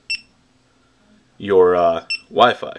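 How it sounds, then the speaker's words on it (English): A GoPro camera beeps in the background after being located through the iPhone app: two short, high electronic beeps, one at the start and one later, with someone talking in between. "you can hear the camera in the background actually beeping because of this"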